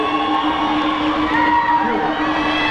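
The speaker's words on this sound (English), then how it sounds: "give these little ones a great big round of applause" Crowd cheering and applauding for young Tahitian dancers at a Hura Tahiti competition, a dense, loud, continuous roar of voices and clapping from a large audience.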